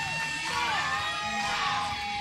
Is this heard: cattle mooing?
no